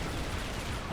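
Tank cannon fire in the video game Serious Sam: Siberian Mayhem, a dense, loud, continuous barrage of blasts that fills the whole second.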